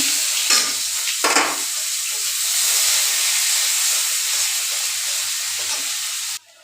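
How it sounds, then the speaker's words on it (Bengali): Panch phoron spices fry with onion and garlic in hot oil for sidol jhol, giving a loud, close, continuous sizzle with stirring scrapes throughout, then cutting off abruptly just before the end. "এখন আমি পুরনো এই যে পাঁচ ফোড়ন দিলাম লগে এই যে পেঁয়াজ রসুন"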